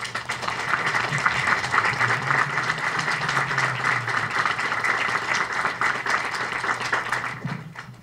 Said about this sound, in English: So we can give you a round of applause again.